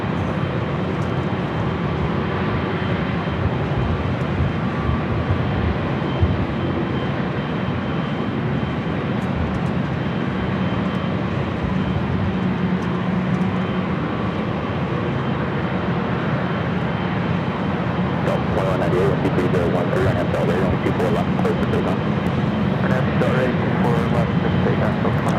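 A Boeing 757 rolls down runway 24 left at Los Angeles International Airport, its jet engines a broad sustained roar heard from a distance that swells slightly toward the end, with a voice talking over it.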